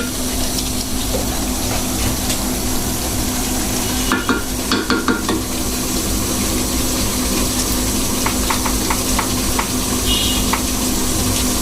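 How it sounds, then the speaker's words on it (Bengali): Green chilies dropping into a pan of hilsa fish and taro curry, a steady loud sizzle and bubbling throughout with a few brief clatters near the middle. "একটু কাঁচামরিচ দিয়ে দেব এখন আমি"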